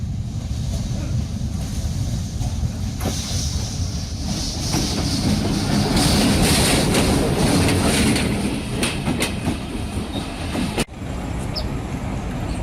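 At Pakshi railway station in Pabna, a passing train makes a continuous, heavy rumble with rattling wheels that swells toward the middle, then gives a sharp clank near the end.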